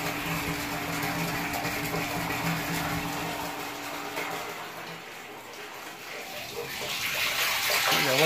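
Water rushing steadily into a rooftop household water tank through a German Condor float valve, a continuous loud hiss and splash that dips briefly midway and then swells again.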